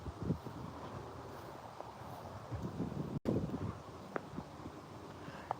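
Gusty wind buffets the microphone in rough, uneven bursts, with a brief dropout midway and faint rustling underneath.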